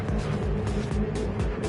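Camaro race cars idling and revving on the starting grid of a racing video game, a steady engine drone with rising throttle blips, loud and close, no talk over it.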